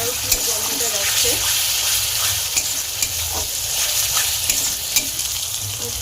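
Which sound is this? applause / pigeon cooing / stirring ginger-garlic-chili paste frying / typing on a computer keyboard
stirring ginger-garlic-chili paste frying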